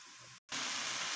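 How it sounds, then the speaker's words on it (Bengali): Greens dropped into a pan of fried onion and garlic, a brief break followed by a loud, bright, continuous sizzle close up. "আমি এখন শাকটা দিয়ে দেব।"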